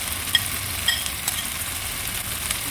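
Tomato paste fries in a pan with salt, cumin, coriander, chili and turmeric powders, giving a steady close sizzle and hiss with a couple of faint clinks.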